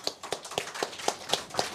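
Sparse, rhythmic handclaps after a press conference on South Korean election fraud, a few distinct claps spaced evenly and fairly close, with no talking.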